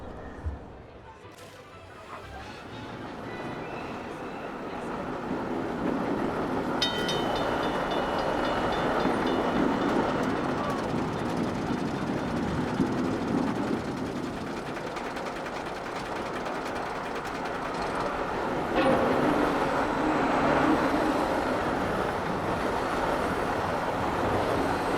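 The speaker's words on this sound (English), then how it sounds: "let's go take a trip on the train" Ride aboard a train in the Planet Coaster video game, set in a realistic German-themed park: a steady rumbling, clattering run that holds for the whole stretch, fairly loud and continuous, with rail noise rising and easing in places.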